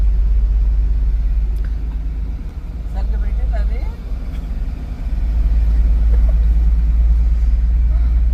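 Inside a moving bus on a journey to Arunachalam, a steady low engine rumble with road noise fills the cabin, dipping briefly a couple of times as passengers chat faintly in the background.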